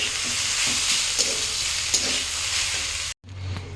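Green chilies hit hot oil while banana stem is fried with coconut in a Bengali kitchen: a loud, continuous sizzle with repeated stirring scrapes, cutting off abruptly near the end before a quieter hiss resumes.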